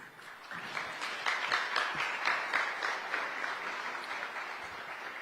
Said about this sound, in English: join us in welcoming Miss Wanjira Mathai with a warm round of applause as she delivers her acceptance speech.